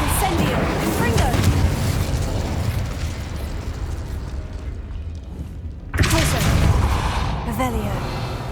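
In the video game Hogwarts Legacy, the Confringo explosion spell produces a loud, dense fiery roar that rumbles continuously before a fresh blast bursts out near the end.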